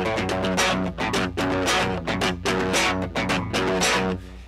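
A riff on distorted electric guitar, played with the thumb wrapped over the neck so the notes come out slightly muffled, a dense, driving repeated figure, loud and continuous with no voice.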